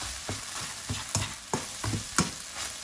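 Chicken and rice are stirred and crushed in a frying pan, with repeated rhythmic scraping strokes about every half second over a faint sizzle, close and clear, with no voices.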